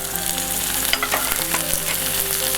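Vegetables and fresh green peas fry in a hot pan for upma while being stirred: a dense, steady sizzle broken by scraping and clinking strokes, close up with no talking.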